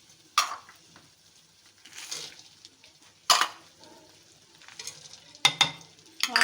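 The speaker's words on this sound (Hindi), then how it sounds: "अब ये सारे जो ड्राई फ्रूट्स हैं इनको मैं थोड़ा थोड़ा अंदर रोस्ट कर लूँगी" Dry fruits roasting together in a pan for Punjabi panjiri, with several separate bursts of stirring and scraping against quiet gaps, close and moderately loud.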